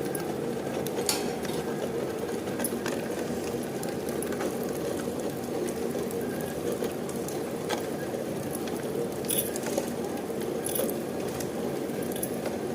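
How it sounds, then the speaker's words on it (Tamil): A wet grinder churns batter for traditional nīr uruṇṭai, a steady rumbling, swishing drone with faint rattles and clicks throughout, close and continuous with no talking. "நல்ல மெய்யாக அரைச்சிக்கணுங்க மையாக ஆயிடுச்சுங்க"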